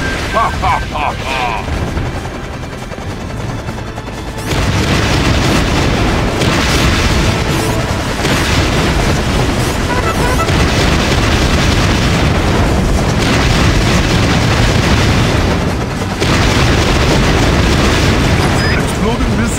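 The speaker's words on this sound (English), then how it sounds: "The missiles explode before flying!" Missiles in the Battalion Wars 2 video game detonate in a string of heavy booms and bursts that merge into a loud, sustained roar of explosions lasting many seconds, with no voices.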